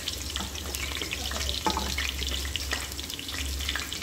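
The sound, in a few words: stirring coriander leaves into frying biryani masala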